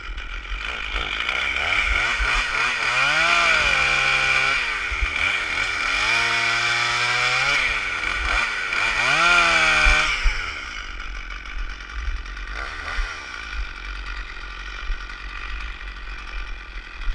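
A chainsaw revs loud and close while cutting up a small tree in snowy winter, its pitch rising and falling through several cuts for about ten seconds before dropping to a lower idle.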